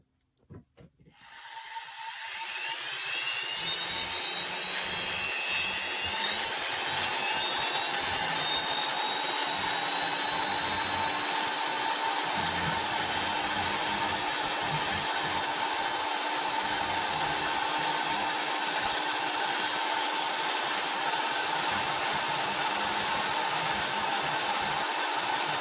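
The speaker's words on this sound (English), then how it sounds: "it's just regular Dremel bits I'm using for this" Dremel rotary tool fitted with a cylinder bit carving a wood spirit face, a steady high-pitched whine that spins up at the start and runs continuously, close and loud with no speech.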